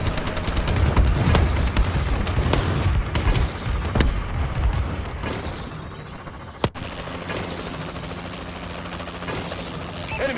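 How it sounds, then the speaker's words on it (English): Bombing run explosions in a multiplayer domination match of a military shooter, a sustained rumbling barrage of booms and gunfire with one sharp blast standing out near the end. "Friendly bombing run incoming."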